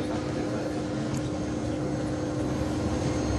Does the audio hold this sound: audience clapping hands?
no